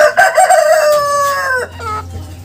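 A Rhode Island chicken in a coop lets out one loud, close crow that rises and trails off, followed by a short cluck.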